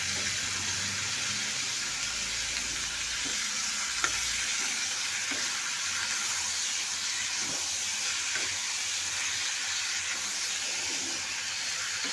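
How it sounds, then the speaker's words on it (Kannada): Ridge gourd curry fries in a pan with a continuous, close, steady sizzle, while occasional soft scrapes of a spoon stirring the pan come through. "ಒಂದೇ ಕೈಯಿಂದ ತಿರುಗಿಸ್ತಾ ಇದ್ದೀನಲ್ಲ ಸ್ವಲ್ಪ ಸ್ವಲ್ಪ ಬುಡ ಕೂರ್ತಾ ಇದೆ"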